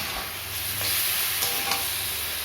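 Spiced chicken sautéing in a pan with ginger, garlic, onion, cumin, cloves, cinnamon, pepper and green chilli, a steady close sizzle with faint stirring scrapes, no talk.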